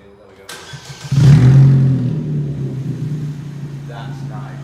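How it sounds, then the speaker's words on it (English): A Vauxhall Astra H 1.6 engine with the exhaust removed starts and revs hard, a loud, raw, close roar that settles into a throbbing idle, with a voice speaking briefly near the end. "Just see how loud it is without an exhaust."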